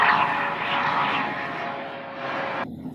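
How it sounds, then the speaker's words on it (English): An aircraft passes overhead, a steady engine roar that cuts off abruptly after a few seconds, with no talk. "we just had an invader, a helicopter overhead."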